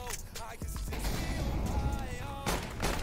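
Gunfire and blasts in the shooter game CS:GO come as repeated sharp cracks and a thudding explosion. They ring out close and loud under a voice talking fast over a game mic.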